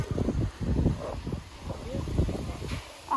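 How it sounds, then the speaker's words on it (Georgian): Gusty wind buffets the microphone in repeated low, rumbling bursts, rising and easing over a few seconds against a steady background hiss. "ისევ ქარი ამოვარდა წეღან"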